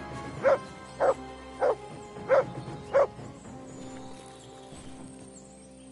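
A dog barks five times in a steady, evenly spaced series in the medieval role-playing game Kingdom Come: Deliverance 2, with faint background ambience continuing after the barks stop.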